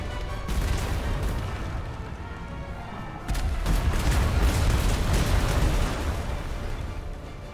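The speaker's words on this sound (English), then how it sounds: "Trading fire with a galleon." Ships trade cannon fire in the Atlas video game, with one ship firing on a galleon: heavy booms and crackling blasts roll into a dense, loud, continuous rumble.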